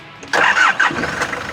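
A Nissan Urvan van's engine cranks briefly, catches with a loud, close burst and settles into a steady running idle.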